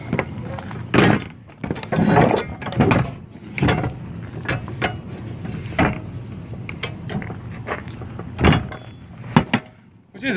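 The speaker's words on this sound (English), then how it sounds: "Shutting my doors." Truck cargo doors being shut after a load bar is set, a series of metallic clanks, latches and heavy thunks spread irregularly, close and fairly loud with some rattling between impacts.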